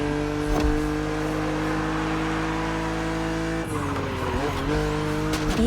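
A BMW Z roadster races in The Crew Motorfest, its engine droning steadily with harmonic whine, then dipping and shifting pitch as it brakes or changes gear, with tire squeal mixed in throughout.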